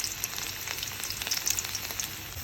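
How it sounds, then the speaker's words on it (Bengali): Garlic sizzling in hot oil as tempering for data shak (amaranth stem greens), a steady soft crackle with brief brighter pops, close and fairly quiet, with no voices. "তেলটা গরম করে নিয়েছে, রসুন দিয়ে দিবে ফোড়নের জন্য।"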